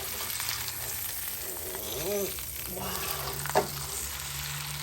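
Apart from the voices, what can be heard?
steak sizzling on the grill after flipping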